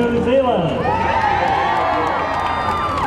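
A large outdoor crowd cheering and whooping at Peter Jackson's Hollywood Walk of Fame ceremony, a dense, sustained roar of many voices with excited shouts rising over it, loud and continuous.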